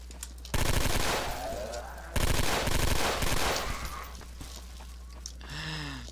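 A shotgun firing at zombies in the SMOD Outbreak game, with two loud, sustained blasts of rapid fire over a low rumble, each fading into a noisy tail, followed by softer growling sounds.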